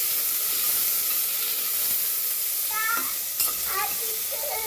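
Bay leaf, whole spices, green chilli, onion and tomato fry in a pot for a village-style pulav, giving a steady soft sizzle and hiss with occasional faint stirring and clinks, and someone speaking at times.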